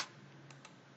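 A few light, quiet keystrokes tap on a computer keyboard, a sharp click at the start followed by two softer taps, alone against faint room noise.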